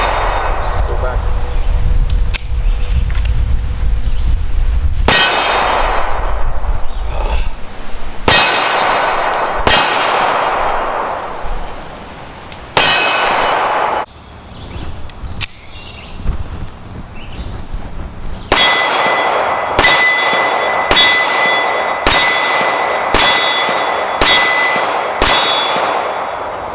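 An Interarms PPK/S pistol fired at an outdoor range, a series of loud sharp cracks with ringing tails, single shots at first then a quick string of rapid shots near the end, with voices in the background.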